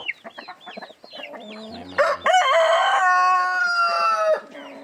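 Several short clucks from nearby hens, then a loud rooster crows in one long, drawn-out call that ends abruptly.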